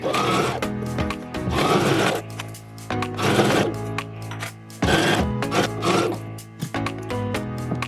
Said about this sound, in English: we're just going to sew them together